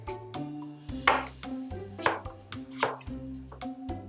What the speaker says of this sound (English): Pass these to you to start chopping.